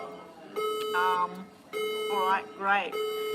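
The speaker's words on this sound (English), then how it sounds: "that is the fire alarm." An indoor fire alarm keeps going off in a steady high electronic tone that repeats in bursts, with a voice speaking over and between the blasts.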